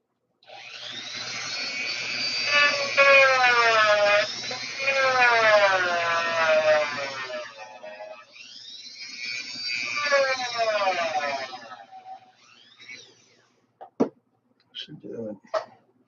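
A sander cuts clearance around a large nut during an RC car repair. Its high, whining motor rises and falls in pitch through two long bursts, followed by a few sharp clicks and taps.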